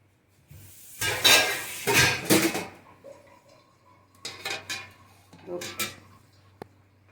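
A spoon works through fenugreek mango pickle in a pan, with two bursts of scraping and clinking, a pause, then a few more short stirring strokes against the metal.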